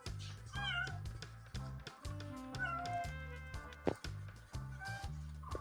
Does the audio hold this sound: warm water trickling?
no